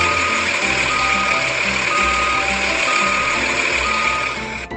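A tow truck sounds its reversing alarm, a steady high electronic tone that holds at the same level over the low rumble of an idling engine, continuous and fairly loud.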